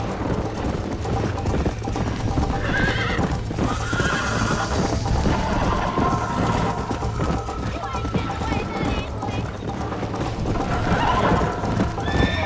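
Horses gallop in a race in the Red Dead Redemption video game, with continuous drumming hoofbeats and repeated neighs and whinnies, while voices talk over the action.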